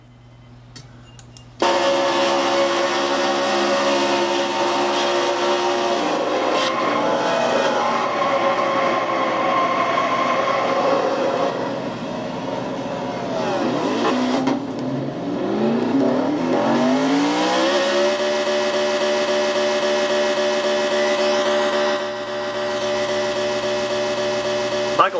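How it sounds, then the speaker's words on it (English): A race car in a Castrol GTX Cup Series stock car race does a burnout, its engine holding a loud, steady high roar with rising and falling pitch sweeps as the revs climb and settle. "Michael Dawson doing a burnout, looks like."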